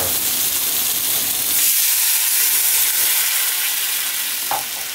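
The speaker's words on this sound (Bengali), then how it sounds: "এখন আমরা জল দিয়ে দিব" Loud steady sizzle and hiss as water hits frying potatoes in a pan for Bengali-style fish curry, a bright continuous frying rush that settles slightly after the first burst, close to the pan with no talk.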